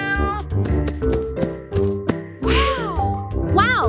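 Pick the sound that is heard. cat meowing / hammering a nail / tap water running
cat meowing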